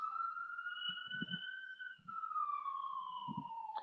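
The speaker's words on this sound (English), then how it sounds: "Sorry, guys, I'm outside. You probably hear some sirens." A siren wails outdoors, a long steady tone that slowly rises and falls while staying fairly distant, with a few soft bumps and rustles nearby and no talking.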